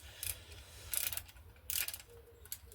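A torque wrench ratchets faintly in short bursts while a bike part is tightened to a low torque setting, about three quick clicking runs against quiet background noise.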